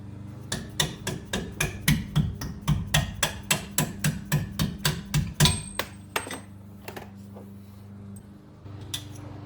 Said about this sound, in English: Using a punch, just slowly punch the bolt out.